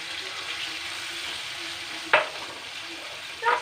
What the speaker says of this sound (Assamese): এতিয়া মই গেছটো ল' ফ্লেমত থৈ পনীৰখিনি ফ্ৰাই কৰিম।